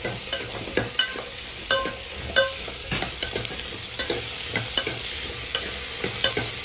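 Small onions and vegetables are sautéed in a pan, giving a constant oily sizzle with repeated sharp scrapes and taps of a spoon stirring them, close and fairly loud, with no talking.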